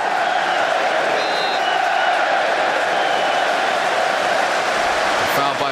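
Football stadium crowd at a Premier League match between Manchester United and Liverpool, a steady broad roar of murmuring and applause that swells slightly near the end and holds throughout.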